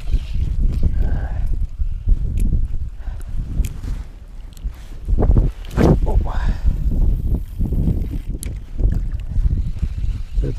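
Strong wind gusting across the microphone on the Moscow River during winter spinning for pike, a loud buffeting roar with surges, someone talking over it at times.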